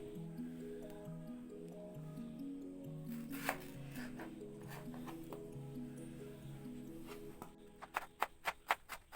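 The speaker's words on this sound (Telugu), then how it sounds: "ఇప్పుడైతే మనము టమాటా ముక్కల్ని సన్నగా తరుక్కొని" A knife chopping tomatoes finely on a board for a fenugreek-leaf chicken curry, with steady background sound giving way to a quick run of sharp, evenly spaced chops near the end.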